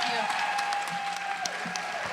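Pageant audience applauds the mayor of Washington, DC at a senior pageant, with dense sustained clapping and a held tone under it, steady and moderately loud throughout.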